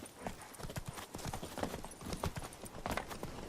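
Horse hooves clip-clop steadily in The Witcher 3: Blood and Wine, a brisk repeating rhythm of close, loud hoofbeats over a continuous outdoor ambience, with no talk.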